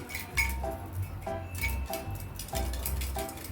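An infrared gas stove burner is shaken by hand, and loose bits rattle inside it with repeated light metallic clinks and taps in an uneven rhythm, close and fairly quiet.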